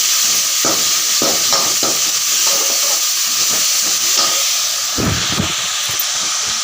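Mashed tomatoes sauté in a pan for kothu parotta. A loud, continuous hissing sizzle runs throughout, broken by repeated stirring scrapes, with a heavier burst of stirring near the end. No speech.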